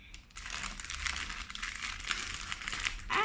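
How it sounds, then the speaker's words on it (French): Small paper envelopes being opened by hand, a steady crinkling and tearing of paper close up, continuous for a few seconds with no talking. "alors on va ouvrir les premières petites enveloppes"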